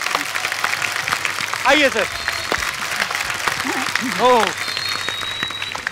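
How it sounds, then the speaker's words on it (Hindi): A studio audience at a comedy talk show gives sustained applause for a TV serial's star cast, steady clapping that runs under brief spoken greetings and an exclamation. "एक बार जोरदार तालियां हो जाए पूरी स्टार कास्ट के लिए।"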